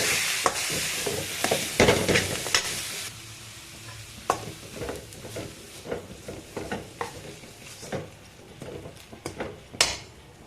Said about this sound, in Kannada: ಈಗ ಸ್ಟವನ್ನು ಲೋ ಫ್ಲೇಮ್ ಮಾಡಿ ಎಲ್ಲ ಒಂದ್ಸಲಿ ಮಿಕ್ಸ್ ಮಾಡೋಣ